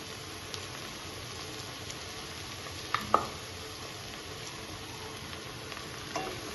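Small mourala fish fry in a pan with coriander leaves and garam masala, a steady soft sizzle running throughout, broken by a couple of quiet utensil clinks as the fish is turned.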